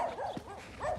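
Dogs outside bark in short yipping bursts, two or three quick barks in about a second, fairly close and clear.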